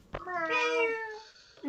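A person imitates a cat with a single drawn-out, rising then falling meow, close and clear, with a short knock before it.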